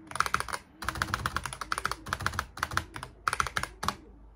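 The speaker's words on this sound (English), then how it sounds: "I'm going to type with a pretty long-ass sentence, okay?" Fast typing on a Razer Huntsman Mini Analog keyboard, with close, crisp keystroke clatter coming in dense bursts and brief pauses between words.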